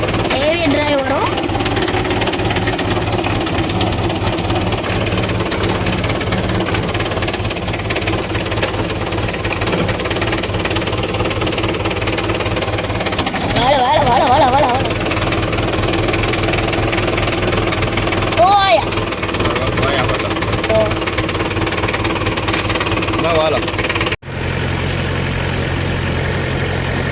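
A tractor engine chugs steadily nearby with a low, knocking diesel throb that runs unbroken for almost half a minute, loud throughout, with voices talking over it and a brief change in tone near the end.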